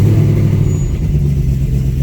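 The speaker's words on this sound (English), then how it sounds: "Let's turn the car on and start logging so we can capture our startup." A Vortech supercharged 2019 Ford Mustang with a Coyote engine runs close by with a loud, steady, deep idle rumble after starting up.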